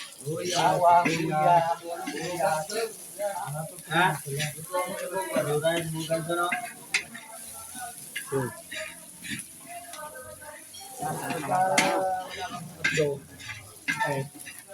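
Ingredients for papaitan, a Batangas bitter stew with beef skin, sauté in a pan, giving a close, steady sizzle with scraping and stirring under ongoing conversational speech.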